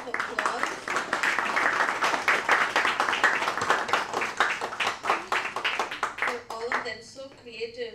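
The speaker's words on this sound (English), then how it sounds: "Let's give a round of applause." Audience clapping at a persuasive speech competition fills the room with dense, steady applause that tapers near the end as a voice begins.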